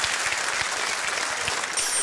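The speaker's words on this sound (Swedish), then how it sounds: "Martin, ge dem en stor applåd!" Studio audience applause on a Swedish TV bingo lottery show, steady dense clapping filling the whole stretch at close, even loudness with no voices over it.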